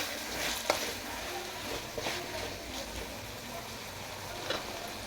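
Turkey berries (sundakkai) sautéing in a pan give a faint, steady sizzle with soft scattered ticks and stirring scrapes, a few louder clicks standing out.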